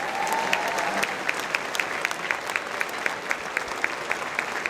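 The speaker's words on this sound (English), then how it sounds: "more clapping for the committee members" Applause for the committee members at a book festival author dinner, a roomful of steady clapping with a few sharper individual claps standing out.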